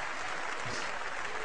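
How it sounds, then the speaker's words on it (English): A NASCAR race crowd applauding, heard over a radio broadcast, a dense steady patter of clapping that holds evenly throughout at moderate loudness. "NASCAR crowd."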